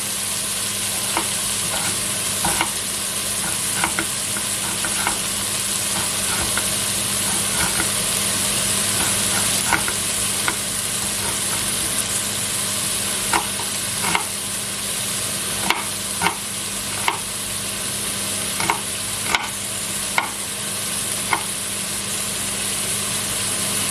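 Chopped onion and meat sizzle and brown together in a pan for Bouchées à la reine, a steady close frying hiss with a constant hum beneath and occasional sharp stirring clicks.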